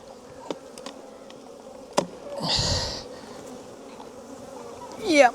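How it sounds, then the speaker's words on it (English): Honey bees buzz around an open hive during a September inspection, a constant close hum with individual bees zipping past the ear, plus a few clicks and a brief rustling thud of hive handling. "Ooh, a lot of bees."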